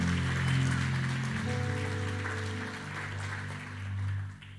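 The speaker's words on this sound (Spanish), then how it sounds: "Dele un aplauso al Señor Jesús." A church congregation claps in applause during a Spanish-language sermon, a dense, steady wash of many hands that runs throughout and thins slightly toward the end, with tonal music or a sustained hum underneath.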